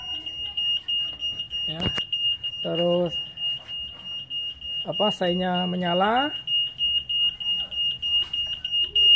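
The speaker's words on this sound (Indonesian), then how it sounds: "Nah ini alarm akan bunyi" A motorcycle security alarm on a Yamaha NMAX: a steady high electronic tone runs throughout while short chirping beeps and a repeating warbling alarm burst out, with a person speaking briefly.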